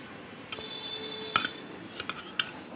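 A spoon clinks against a metal pot while sour yogurt is stirred into warm milk for homemade mango curd, a few sharp scattered taps over a quiet background.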